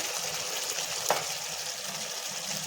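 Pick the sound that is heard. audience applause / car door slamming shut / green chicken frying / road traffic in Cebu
green chicken frying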